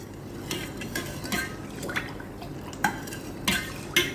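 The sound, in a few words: stirring sugar syrup with lemon juice in pan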